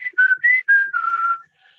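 Close, clear whistling into a microphone, a short melodic run of about five sustained tones over roughly one and a half seconds, each note steady and bright, with no talking.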